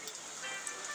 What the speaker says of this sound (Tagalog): Grabe itong ulan na ito ah.